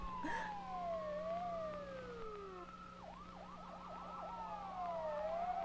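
Police car siren wailing steadily with falling and rising sweeps, then switching to a rapid yelp pattern, moderately loud over a constant low hum.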